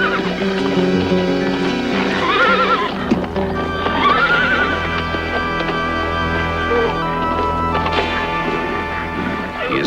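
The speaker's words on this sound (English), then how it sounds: "He has a horse brought to him, knowing that to them, this is a beast of the most fearsome proportion." A horse neighs and whinnies loudly several times over steady clip-clop hoofbeats, set against a busy dramatic backdrop in a scene of the Spanish conquest of the Aztecs.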